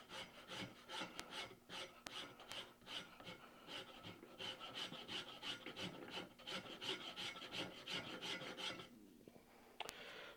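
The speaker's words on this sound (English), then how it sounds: "Let's pull out the rasp." A hand rasp is drawn over wood in an axe shop, making repeated rough, scratchy strokes in a steady back-and-forth rhythm, quiet and close, with no voices.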